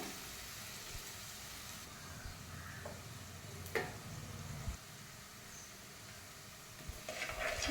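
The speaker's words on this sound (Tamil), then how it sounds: "இஞ்சி பச்சை மிளகாவும் நல்லா எண்ணெயில் நல்லா மொறுன்னு ஆகணும்." Ginger and green chilies fry quietly in oil, a faint soft sizzle with occasional light ticks and scrapes of stirring, heard close but low in level without talk.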